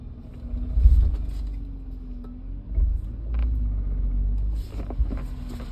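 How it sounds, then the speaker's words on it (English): A car treated with LIQUI MOLY MoS2 anti-friction engine additive drives up a street, its low engine rumble rising and settling in a few surges, close by and alone with no talk. "I'm gonna drive it up the street."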